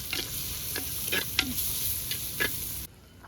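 Ginger garlic paste hitting a hot pan for a gongura prawns fry, a steady close sizzle with a few stirring scrapes before it cuts off abruptly near the end.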